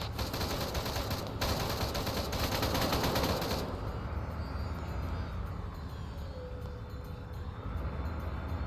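Rapid automatic gunfire in a military shooter video game rattles in dense, loud bursts for several seconds, then drops off to a rumbling background of distant shots and engine-like drone.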